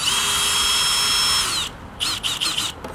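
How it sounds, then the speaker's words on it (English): A power drill drives large screws into a residential fence, a loud steady whine for about a second and a half, then a pause and several short bursts of the trigger, close by with no speech. "For people drilling signs into your fence."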